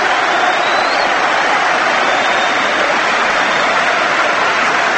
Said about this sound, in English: listen to that rapturous round of applause from the Everton fans here for Bernard